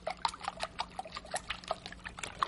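Milk is poured into a bowl of beaten eggs for a breakfast dish, giving a soft, sparse trickle of small liquid drips and splashes, quiet and close.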